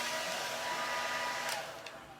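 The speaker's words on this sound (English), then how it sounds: "I don't use a heat gun because I'm fancy and I got a blow dryer" A handheld blow dryer runs close by in a craft setting, a steady loud whooshing hum that holds for a couple of seconds and then tapers slightly toward the end.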